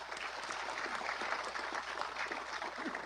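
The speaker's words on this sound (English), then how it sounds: "Give yourself a big round of applause." An audience at the opening ceremony of the National Toshaos Council Conference gives a round of applause for newly elected village leaders, a steady, moderately loud wash of many hands clapping without pause.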